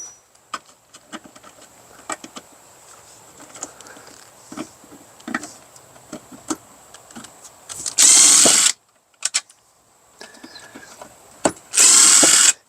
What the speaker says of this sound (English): Now there's two more screws on the back side of this. I can release them